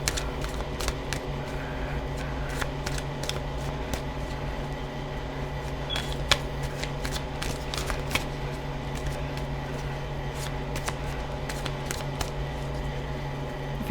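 A tarot deck is shuffled by hand in a quiet room, giving scattered soft snapping and riffling clicks at uneven intervals over a low background hum, with no talk.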